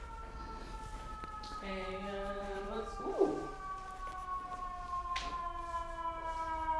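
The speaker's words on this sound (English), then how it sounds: "Hopefully you won't hear the ambulance that's about to drive by." A fire truck siren wails along a New York City street, its steady tones rising and holding from mid-distance behind room tone, with a brief exclamation from a person indoors.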